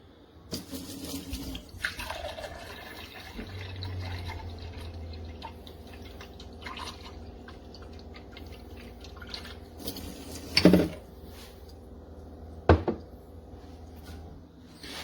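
Quiet water drips and trickling from a tankless 400 GPD reverse osmosis filter in an enclosed space, with a few sharp knocks and clunks standing out over the low steady flow.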